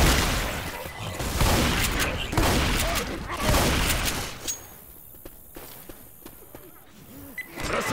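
Heavy gunfire and a grenade blast in a realism-setting shooter on The Parish map: a burst of loud, overlapping bangs and booms for about four seconds, then fading to a quieter stretch with scattered distant pops.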